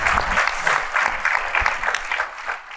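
A room full of people applauding at a live on-stage talk about Formula One business in Miami, dense close clapping that holds steady and tapers slightly at the end, with no voices over it.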